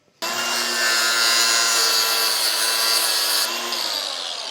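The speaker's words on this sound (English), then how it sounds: "Stef's just cut a bit of steel wire" A length of steel wire being cut, a loud, continuous grinding whine with a harsh metallic edge that runs steadily for about four seconds after a sudden start, close by and alone.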